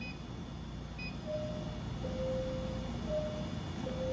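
A café POS terminal sounds a faint electronic tone when an AnyOrder app order arrives, a few short beeps over a steady background hum of the shop.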